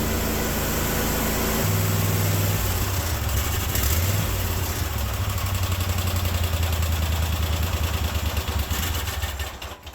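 Cub Cadet 1050 hydrostatic garden tractor engine running cold on full choke, a loud, close, steady idle with a shift in pitch and rough, uneven tone partway through, no talk.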